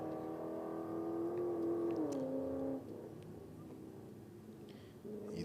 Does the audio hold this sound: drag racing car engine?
yes